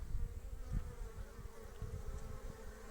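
Honeybees bring pollen into a hive entrance on a warm spring afternoon in Şile, Istanbul. Their buzzing forms a steady, dense hum, with some wind in the background.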